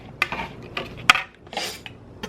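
Mango salsa is stirred in a bowl with a utensil, giving a few sharp clinks and scrapes against the dish separated by soft, wet mixing rustles, close and fairly quiet.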